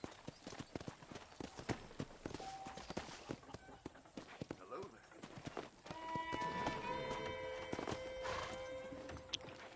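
Steady horse hooves clip-clop at a trot alongside a whinny in the video game Red Dead Redemption, with voices talking and music swelling in the background.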